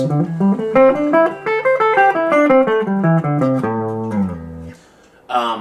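A guitar picks a quick run of single notes up and down the minor pentatonic scale, clear and close, ending on a sustained note before a brief final strum.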